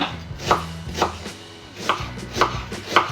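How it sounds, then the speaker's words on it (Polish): A knife dices an onion finely on a cutting board, sharp close chops landing in a loose rhythm with a short pause midway, no voices. "Cebulę pokroję w drobną kostkę."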